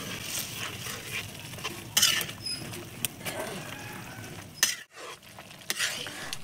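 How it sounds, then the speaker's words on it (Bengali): Noodles and meat are stirred together in a pan, with a continuous close sizzle, scraping and clattering utensil strokes against the pan, and a few sharper knocks. "এখন নুডলসগুলো ভালো করে মিশিয়ে নেব।"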